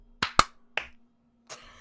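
Sharp hand claps in a quick uneven pattern, two close together, a lighter third, then a softer final clap after a pause, crisp and near in a quiet room.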